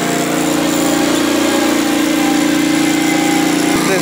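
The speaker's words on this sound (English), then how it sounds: "they're drilling the foundation for the dowels" A loud, steady mechanical drone of a drill boring holes in a concrete foundation, running continuously close by, with no break in the noise.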